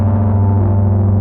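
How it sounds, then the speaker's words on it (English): Bass strings of an electric harp played through a Calamity drive pedal, producing a thick, sustained, overdriven low drone that holds steady and loud throughout with no voices. "And then I'm gonna plug my harp's bass strings into the Calamity drive"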